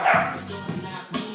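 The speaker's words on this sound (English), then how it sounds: "Puffy the Pomeranian." A black and white Pomeranian puppy gives a few short, sharp yips and barks close by, in quick bursts with brief pauses between them.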